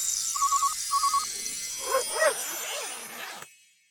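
A dog barks a couple of times in a children's sound-adventure setting, following two short electronic telephone-like trills, against a noisy background before cutting to silence.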